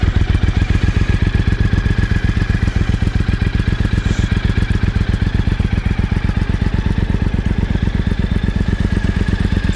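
A Triumph Thunderbird Storm motorcycle idles steadily up close on a chilly day, giving a loud, even, rapid pulsing throb that runs alone throughout.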